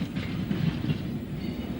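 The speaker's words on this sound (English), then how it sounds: "the Brighton Bell, seen here passing through Weaversfield in BR days" The Brighton Belle, the Southern's named express, rolls through Wivelsfield station in British Railways days, a steady close rumble of wheels and carriages running on without a break.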